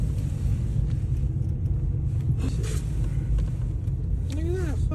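Deep, steady rumble of a Dodge Hellcat car engine idling nearby, a continuous low growl with people talking over it briefly.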